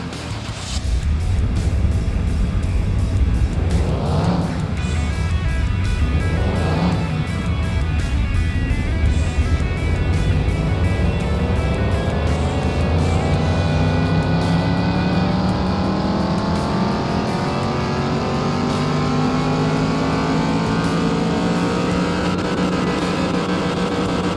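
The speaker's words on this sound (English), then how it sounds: "we're gonna throw it on the dyno because I'm curious to see what kind of horsepower this is" A rebuilt engine in Car Mechanic Simulator 21 revs hard on a dyno, climbing from a low rumble into a sustained, rising high-rpm roar that holds loud and steady for over twenty seconds, with no talking.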